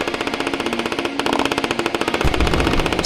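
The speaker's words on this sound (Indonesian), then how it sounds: "suara tembakan dan ledakan menggema di seluruh penjuru kota" Rapid machine-gun fire rattles in dense, evenly spaced bursts, loud and close, for a historical battle scene, with a heavier boom near the end and no talk.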